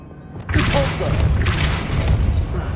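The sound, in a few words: Depulso push spell impact in video game Hogwarts Legacy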